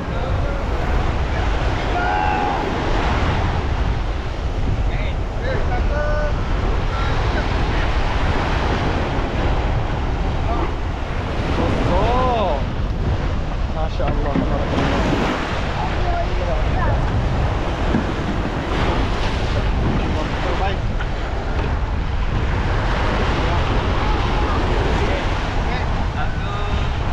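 Surf breaking on a beach behind a house where a boat with an engine is brought ashore, a constant roaring wash with heavy wind buffeting the microphone and people talking over it.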